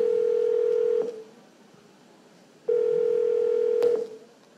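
A telephone line sounds a steady loud dial tone in two long stretches separated by a quieter gap, with a short tone blip near the end, as a call is placed from captivity to a wife.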